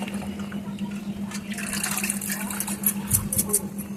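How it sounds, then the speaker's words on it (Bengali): Water splashes and runs steadily while cleaning ingredients for a Bengali lokal fish dish with telakucha leaves, a continuous wet rushing over a low steady hum. "আবার একটু জল দিয়ে ভালো করে ধুয়ে নিলাম"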